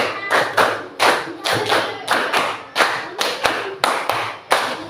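A classroom group claps in unison in a counted pattern, sharp, loud, close hand claps falling in short bursts with brief pauses between sets, repeated several times and with no talking over them.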